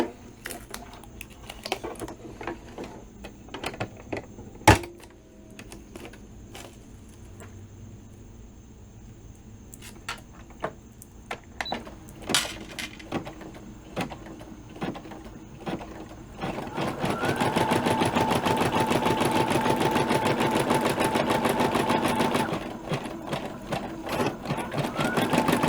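An embroidery machine stitches a zipper onto a 4x4 in-the-hoop crayon pouch, first with scattered taps and clicks, then in a loud, steady, rapid run of needle strokes for the final stretch, with no talking.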